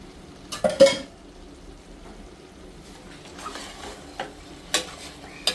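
A utensil stirs coriander powder and spices into hot oil for chicken biryani in a pressure cooker, making a few sharp scrapes and taps on the pot over a quiet low sizzle.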